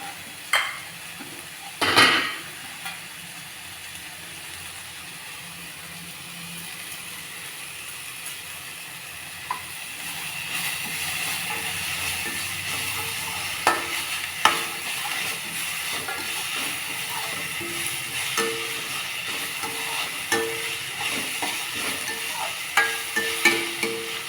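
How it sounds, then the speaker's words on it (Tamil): Bitter gourd sautéing in a pan with rock salt, a steady sizzle and hiss joined by intermittent scraping stir clicks, one sharp clatter near the start and the frying growing fuller and busier partway through. "நல்லா பாவக்காயோட கலர் மாறுற மாதிரி வதக்கலாம்"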